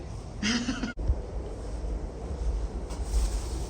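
Strong wind on a UK island during a storm buffets the microphone in a steady low roar, with a brief sharp dropout partway through and gusting rumble throughout.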